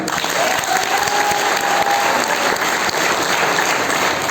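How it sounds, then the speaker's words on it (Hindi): A crowd at a Safeshop leaders' gathering breaks into loud, continuous applause, dense clapping from many people filling the room, with a whistle or cheer rising briefly over it. "उनके लिए एक बार जोरदार ताली"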